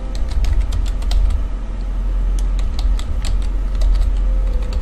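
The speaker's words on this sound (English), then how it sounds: "Maybe if I type give up?" A computer keyboard being typed on during a game as the words "give up" are entered: a quick, close run of light plastic key clicks over a steady low background hum.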